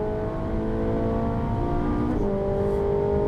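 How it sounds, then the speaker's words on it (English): A race car engine drones steadily on a track at moderate revs, a tonal, buzzing note that shifts in pitch partway through as the driver changes the throttle. It is heard from a distance without any talk. "It's alright, Joe, I'm not revving it past 7"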